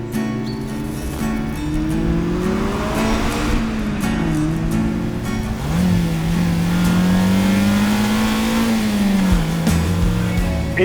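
A Mazda MX-5 Miata accelerates hard, its engine note climbing and falling through gear changes, loud and close from inside the car, with steady road noise beneath.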